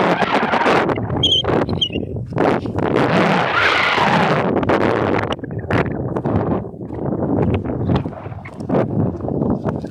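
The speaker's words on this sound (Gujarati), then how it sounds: "ફૂલ પવન છે અહીંયા." Strong wind buffets the microphone outdoors at a Hinglaj Mata temple on a bright afternoon, a loud, continuous roaring rush with gusting swells and no letup.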